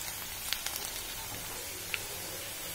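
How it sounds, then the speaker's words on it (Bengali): Onion frying in hot oil with cumin makes a steady, bright sizzling hiss with a few sharp pops and crackles, fairly close and with no talk. "পেঁয়াজ ভাজি হচ্ছে"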